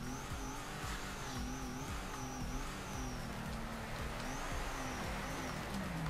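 Tires squeal in a steady drift while a Nissan Z's engine drones and revs loudly in the Torque Drift racing game, sliding against an E30 in fourth gear; continuous dense engine tone with warbling skid pitches and no talk.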